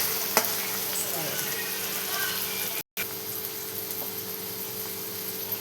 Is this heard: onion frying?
yes